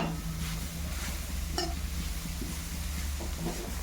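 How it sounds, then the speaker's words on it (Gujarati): Grated carrots stirred in ghee in a pan for carrot halwa, a soft steady scraping and low sizzle running throughout at close range, with one brief sharper clink midway. "ઘી અને ગાજર બે મિક્સ થઈ જાય ત્યાં સુધી હલાવવાનું છે"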